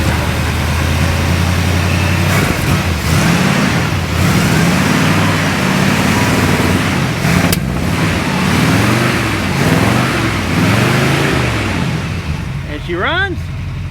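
A 1978 Jeep Cherokee engine runs and idles with a loud, steady rumble throughout, and voices talk over it.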